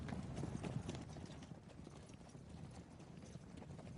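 Horse hooves clip-clop in a steady walking rhythm against a faint outdoor background, moderately distant.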